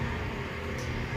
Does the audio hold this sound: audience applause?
no